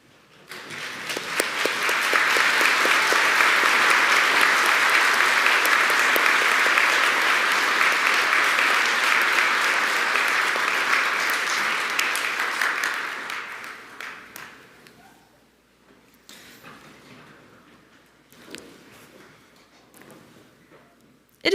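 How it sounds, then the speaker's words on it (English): Graduates at a Northwestern Polytechnic Fairview convocation applaud their instructors, a loud, sustained crowd ovation lasting about twelve seconds before tapering into scattered claps and quiet room noise. "I'd like to ask my fellow graduates to stand up and give them a round of applause."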